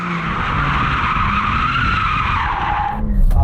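Tyres on a BMW M4 squeal loudly through a hard launch from standstill, a continuous high screech over engine noise that slides down in pitch and cuts off near the end.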